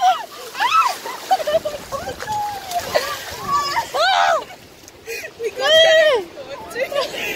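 Ocean waves splash and wash up a beach shore, surging loudly twice amid excited voices and children's squeals close by.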